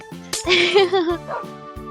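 Pet dogs in Minecraft, including a Pomeranian-type pup, give several short yappy barks and whimpers in quick succession, close and fairly loud, with a voice talking over part of it.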